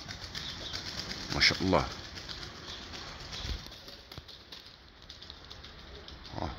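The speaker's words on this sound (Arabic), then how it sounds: "عندنا الحمام التركي القلاب هذا." Turkish tumbler pigeons flap their wings in a quick, close burst of fluttering beats, followed by faint outdoor ambience while someone speaks briefly.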